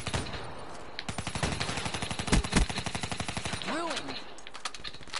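Rapid automatic gunfire rattles in sustained bursts during a zombie shooter video game, with a brief louder volley midway and a short lull near the end, with faint voices underneath.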